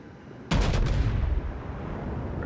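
Heavy naval gunfire from the main battery of the battleship North Carolina in a World of Warships battle: one sudden loud blast with a few rapid follow-up thuds, then a long booming rumble fading out.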